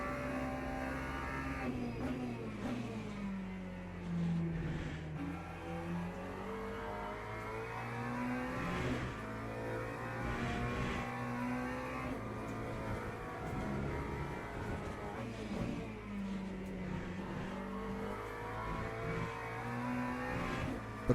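A race car in the sim racing game Le Mans Ultimate revs hard through the gears, its engine note rising and dropping across shifts during an online race on the Bahrain outer circuit, loud and continuous.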